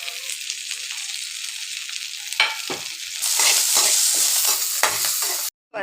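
Tamarind fries in a kadai, a steady close sizzle with a few stirring scrapes, swelling into a louder, denser hiss for the last couple of seconds before a short silence.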